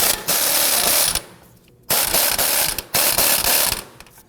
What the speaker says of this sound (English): We're going to use our gun here to go ahead and loosen and remove that nut.